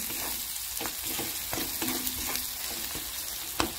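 Onion frying in a pan with turmeric, red chilli powder and homemade black masala for egg keema, stirred together. A steady close sizzle runs throughout, with repeated scraping strokes of the stirring spoon and no talk.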